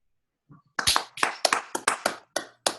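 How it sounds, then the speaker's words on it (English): A small group claps in a loose, uneven burst of about eight sharp claps after a brief faint sound, close and fairly loud, with no talking over it. "Don't make all that noise clapping."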